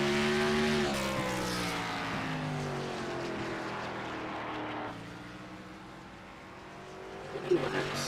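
Stock race cars roar around the Nashville Fairgrounds oval late in an ARCA race, a steady loud engine drone with rising and falling pitch as cars pass, while a commentator talks over it.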